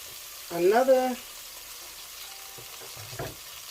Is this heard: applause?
no